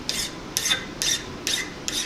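Metal file rasped across a heat-treated knife blade to test its hardness, five quick scraping strokes in an even rhythm, close and crisp, with no speech.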